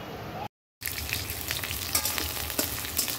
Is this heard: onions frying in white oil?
yes